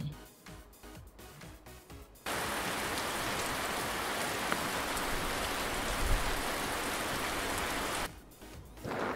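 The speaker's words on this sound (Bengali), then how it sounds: "ছাতা মাথায় বৃষ্টি পড়ে" Steady rain falls in a dense, even hiss for several seconds, bracketed at the start and end by a quieter stretch with a light rhythmic pattering.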